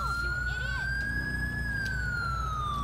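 An ambulance siren in the video game Grand Theft Auto IV wails with a steady, slowly rising and falling tone over a constant low engine rumble, with no talking.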